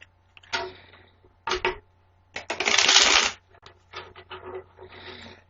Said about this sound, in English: I'm going to shuffle the cards 3 times, and tarot cards are hard to shuffle